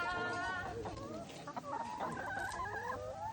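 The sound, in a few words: chickens clucking in a garden roost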